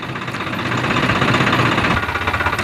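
A tractor engine ploughs under a standing tomato crop on a farm field in Etawah, giving a loud, steady rumbling drone with a fast rhythmic knocking pulse throughout and no voices.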